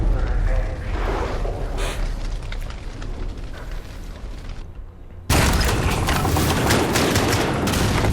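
Heavy gunfire and booming blasts from a Call of Duty Modern Warfare campaign fight, dense continuous bursts that cut abruptly to a louder barrage midway, with a player talking over it.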